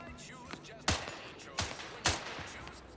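Gunfire in the video game The Outer Worlds 2: three sharp, loud shots spaced under a second apart, each with a short ringing tail, over a low background of game ambience.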